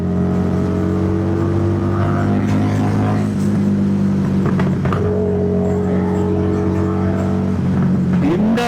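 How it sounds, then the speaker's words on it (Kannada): A cruiser motorcycle at high speed in fourth gear drones with a steady engine hum and wind rush, with scattered faint exhaust pops and crackles mixed in. "ಅದು next level pops and banks ಆಗ್ತಾ ಇದೆ ಹಿಂದಗಡೆ"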